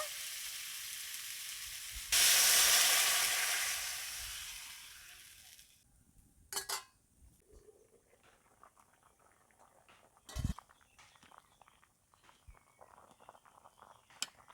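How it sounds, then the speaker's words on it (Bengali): Water poured onto lightly fried potatoes in a pan for a Bengali fish curry: a loud, bright sizzle bursts out and then fades over a few seconds, followed by quiet kitchen sounds and a couple of soft knocks. "আলু হালকা ভেজে নিয়েছি, এবার ঝোলের জন্য জল দিয়ে দেব।"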